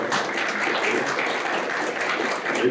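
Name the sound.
audience applause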